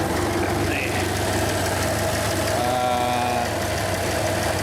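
A small petrol engine with a carburetor and petrol tap idles steadily and close by, a loud continuous mechanical drone with a faint knocking rhythm and no pauses.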